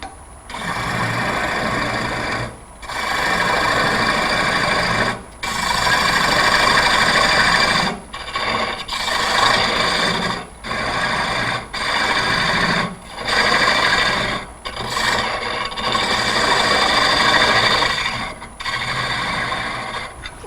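A gouge cuts a wooden chip and dip bowl on a spinning lathe, a loud, close, rough hissing scrape that comes in repeated passes of a few seconds each, separated by short breaks, with no talking.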